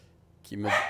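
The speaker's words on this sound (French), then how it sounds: "Ça, c'est mon petit toutou." A small pet dog gives a single short bark, close and fairly loud, after a quiet moment.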